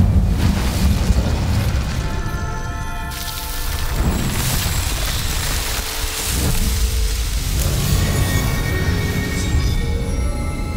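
Incendio fire spell cast in Hogwarts Legacy, a loud rushing, crackling blast with booming swells over continuous noisy game ambience, heard alone without talk.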